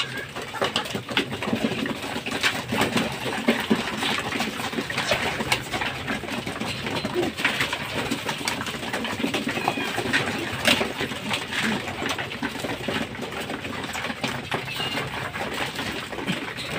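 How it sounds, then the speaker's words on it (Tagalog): Pigeons gathering at a feeding: soft cooing and fluttering spread through constant busy background noise, steady and fairly dense with no clear speech. "Kaya samahan nyo ako magpakain mga kalapatid."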